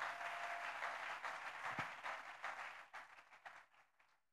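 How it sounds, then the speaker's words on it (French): A church congregation applauds in a sustained, even wash of clapping that thins out and dies away toward the end. "S'il faut acclamer la parole, acclamons la parole comme il se doit."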